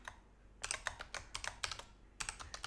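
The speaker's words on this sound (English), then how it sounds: "I like the sound of the keyboard." Someone types a password on a computer keyboard in bursts of rapid, crisp key clicks with short pauses between groups. The typing is close but fairly quiet, with no talking.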